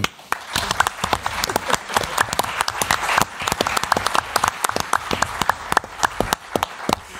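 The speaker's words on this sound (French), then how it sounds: "je vous demande d'applaudir chaudement, Marilyn Jess" An audience applauds warmly for a guest at a French talk event, with a steady, close, dense patter of many hands clapping throughout.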